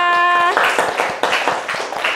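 A classroom of students claps for a classmate, a brief rhythmic round of hands following a short tonal sound at the start, with some group clapping in unison beats.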